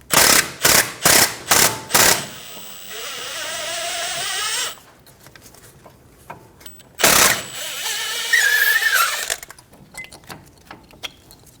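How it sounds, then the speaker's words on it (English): A power tool with a 7mm Allen bit spins out the caliper bolts on a Volkswagen Passat's front brake, giving short rapid bursts and then longer whirring runs, loud and close, with pauses between them. "Using a 7mm Allen bit, we're going to remove the 2 caliper bolts."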